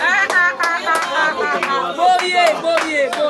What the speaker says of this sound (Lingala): Est-ce que les hommes peuvent acclamer pour eux-mêmes?